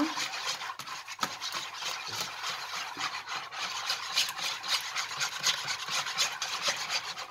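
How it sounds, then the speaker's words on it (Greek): A spoon scraping and rubbing steadily around a bowl while milk is stirred into a broccoli gratin mixture, a repetitive rhythmic rasping that is close and fairly quiet, with no talking. "Θα προσθέσω το γάλα. Μισή κούπα είναι και το γάλα μου. Ανακατεύω πολύ καλά."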